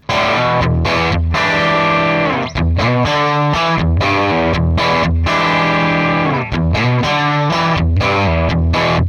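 Electric guitar with heavy distortion played through a Shift Line Twin MkIIIS preamp with a cabinet impulse, strumming loud, sustained chords and riffs with brief gaps, alone and close.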